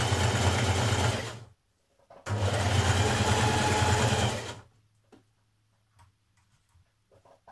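A sewing machine stitches a neckband onto a Burda 6233 blouse in two steady, loud whirring runs separated by a short pause, followed by faint handling clicks.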